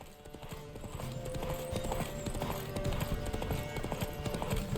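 A horse gallops in The Witcher 3 with a steady, rapid clip-clop of hooves, heard in the foreground over constant game ambience.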